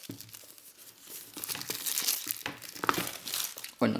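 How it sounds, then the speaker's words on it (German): Plastic shrink-wrap film crinkles and tears as it is peeled off a limited Eisbrecher Sturmfahrt fan box, with close, irregular rustling bursts building in loudness and a sharp crackle near the end. "Dafür müssen wir natürlich erstmal wieder die Folie entfernen."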